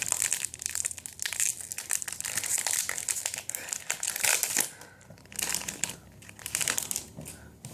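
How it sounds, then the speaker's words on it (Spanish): Foil packs of Copa América trading cards being torn open, with loud, close crinkling and crumpling in uneven bursts separated by short lulls. "estamos con un pack opening de las cartas de la Copa América"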